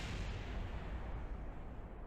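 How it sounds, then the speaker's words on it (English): Kerbal Space Program game audio: a launch pad exploding under a rocket, a sustained dense rumbling blast that roars on for two seconds without pause, fairly quiet overall, no voices. "I exploded the launch pad."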